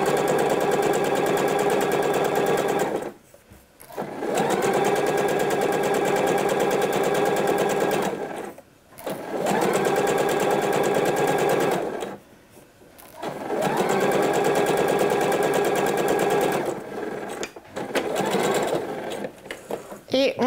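A sewing machine stitches a seam on a Bowie pattern dress, 5 mm from the edge, in long steady runs of several seconds each. The runs are split by short pauses, and the motor hum stays loud and close.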